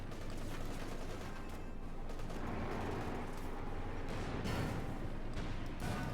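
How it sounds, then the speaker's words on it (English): Bazooka fire on a Panther tank in Company of Heroes 2: scattered shots and impacts crackle over a dense, constant battle din, with sharper bursts toward the end. "Lots of bazooka fire on the Panther 4 there."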